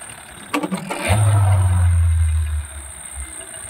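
Yamaha 15 hp outboard motor running at low throttle, a steady low drone swelling to a loud hold for over a second before easing off, with a few clicks near the start.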